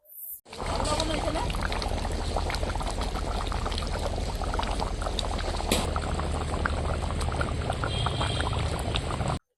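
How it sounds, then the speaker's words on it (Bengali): A pot of chicken curry boils on the stove with a close, continuous bubbling and hiss that stays loud and even from start to finish. "এখন আমি দশ পনেরো মিনিট মতো ফুটিয়ে নেব তারপরে মাংস রান্নাটা হয়ে যাবে"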